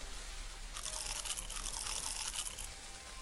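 Crisp crunching of Scooby Snacks in a Scooby-Doo video game, a short burst of bright crackly munching lasting about two seconds over a faint background hum.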